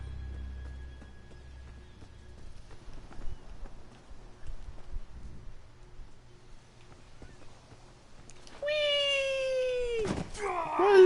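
A cat in the fantasy game Elder Scrolls Online lets out a loud, drawn-out meow near the end, after quieter footsteps and thuds, close and clear.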